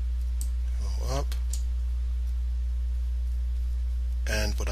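Mouse clicks while working in Revit MEP on HVAC ductwork, a few sharp, close clicks scattered across a quiet room with a steady low electrical hum underneath.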